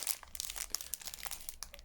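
Plastic zipper bags crinkle and rustle while a diamond painting kit is unboxed, with soft irregular crackles close up and no talk.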